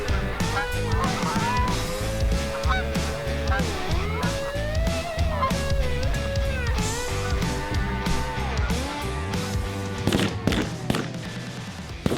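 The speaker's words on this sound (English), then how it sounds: "The geese are coming in like crazy." Geese honk repeatedly in a dense, overlapping chorus, with occasional thumps and a voice speaking faintly underneath.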